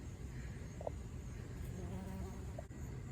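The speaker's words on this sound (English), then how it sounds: "And there is a bee." A bee buzzes near late-summer garden flowers, a soft continuous hum that hovers close by with slight rises and falls, alone against quiet outdoor background.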